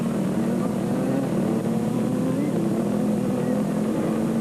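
Pack of powerful KTM and Honda off-road racing motorcycles in the 1996 Roof of Africa race, a steady wavering engine drone at moderate distance, continuous with no talk.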